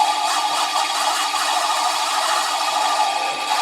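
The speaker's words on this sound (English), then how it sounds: "it's easy enough to use this sander" Variable-speed power sander running steadily on a turned wood elf, a constant close whirring hum with a faint rattle, no talking over it.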